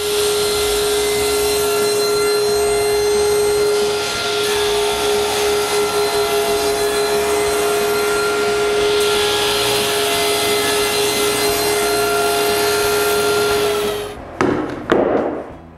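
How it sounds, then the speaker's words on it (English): A saw cuts wooden rails and mullions for interior doors in a workshop, giving a loud, steady whine that runs on for about fourteen seconds before stopping, followed by a few short clattering knocks. "Now with my plan's measurements, I cut the rail and the mullions."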